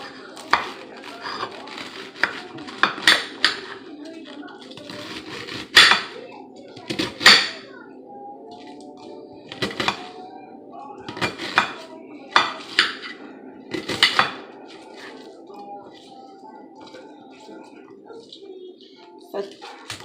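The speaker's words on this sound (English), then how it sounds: "I like to chop mine up like in bite sizes." Cabbage being chopped into bite-size pieces for slow-cooker soup, with scattered sharp knife strikes and clinks of utensils in a kitchen, and people talking in between.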